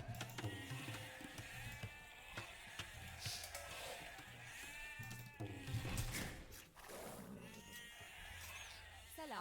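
Sheep in a medieval strategy game bleat several times, moderately loud over a layer of game music and ambience, with a voice talking intermittently.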